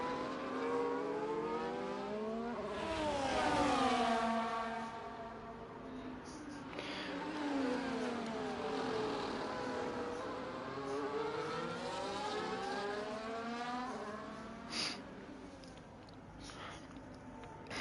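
Engine notes from cars in a racing video game rise and fall through gear changes on the Singapore circuit, a continuous high revving whine with sweeping pitch changes throughout.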